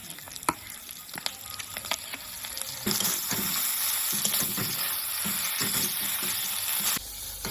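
Ginger, garlic and onion masala paste frying in a hot pan, a steady close sizzle that swells louder after a few seconds, with occasional stirring scrapes and clicks.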